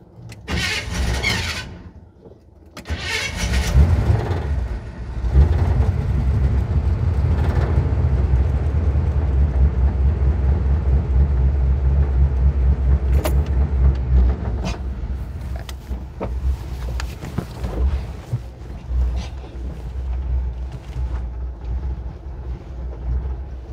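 Old car started and driven for the first time after five years of sitting, its engine catching after brief sputters, then a steady rough idle and rumble with wind noise across the microphone. The running tone thins and wavers toward the end.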